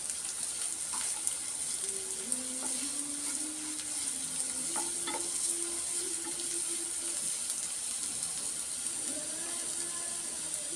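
Beetroot frying in a pan, a steady soft hiss of sizzling with a few faint clinks and scrapes from stirring, close and fairly even throughout.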